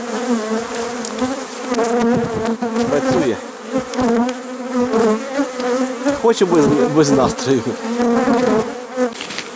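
Bees hum in a steady, close buzz in a flowering linden tree, overlapping wingbeats droning throughout while someone speaks briefly over them.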